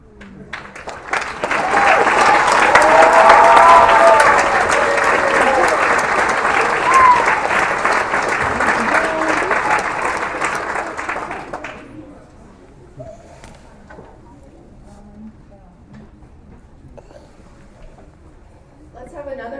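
Loud, sustained audience applause for students at a school movie premiere night, rising fast and holding for about ten seconds before fading into quiet room noise.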